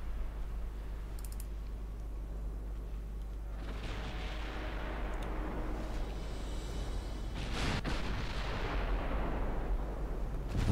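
Naval cruiser gunfire in Ultimate Admiral Dreadnoughts, with rolling broadband booms that swell from about four seconds on over a constant low rumble. A sharper crack lands near eight seconds, and no one speaks.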